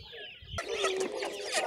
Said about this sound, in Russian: Это у вас куры серебро, да, вот сейчас кидаете?